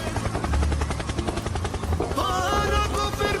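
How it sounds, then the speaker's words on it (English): A helicopter, loud and steady throughout with a pulsing rotor-like throb under dense music or effects, no speech over it. "Helicopter, helicopter."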